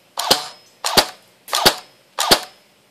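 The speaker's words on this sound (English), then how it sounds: "It's shooting 2 BBs again." Matrix X36C airsoft gun firing BBs in semi-auto, four sharp, loud cracks spaced evenly about two-thirds of a second apart, close up and with no talking.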